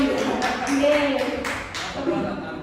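A small group claps for someone in a classroom or workshop setting, a few scattered, evenly spaced claps running under steady nearby talking.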